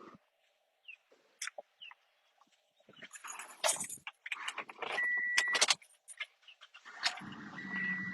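Keys jangle and rattle close by in a car's ignition, followed by the clatter and whir of the engine being started, all fairly faint with no talking.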